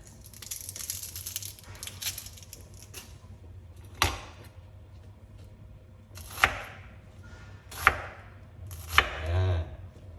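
Onions are chopped on a board with a knife while cooking beef nilaga: a few sharp, separate knife strikes spaced a second or two apart, close and clear over a low background hum, no talking.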